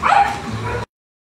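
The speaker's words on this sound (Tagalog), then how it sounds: "Sige, yaw-yaw ng mga aso." A dog barks in a quick burst of yips and yaps, fairly close and loud, ending abruptly into silence, in a flooded neighborhood during the rainy season.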